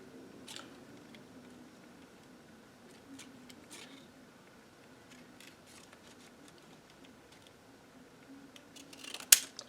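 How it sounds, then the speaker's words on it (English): Scissors cutting material during a stencil craft session, quick crisp snips scattered through a quiet room, with a sharper louder cut near the end. "but I'm going to cut this though."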